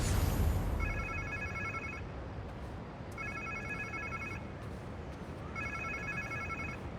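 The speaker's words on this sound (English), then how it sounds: "Sounds like somebody's phone." A phone rings in the video game Spider-Man 2, three electronic trilling bursts about two seconds apart over a low ambient hum.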